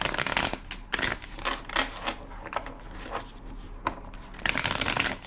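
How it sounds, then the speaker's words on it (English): A deck of tarot cards is shuffled by hand in several riffling bursts, crisp and close, with brief pauses between each shuffle. "2 more shuffles."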